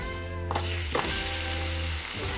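Vegetables, including carrot, hitting hot oil for Jamaican steamed callaloo set off a sudden loud sizzle that stays steady and close, with brief stirring knocks, under a faint tonal hum.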